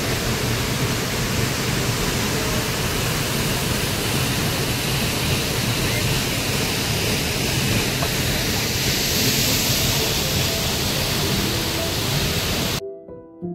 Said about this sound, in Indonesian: Menikmati dinginnya suasana di sekitar air terjun atau di Curug Sawer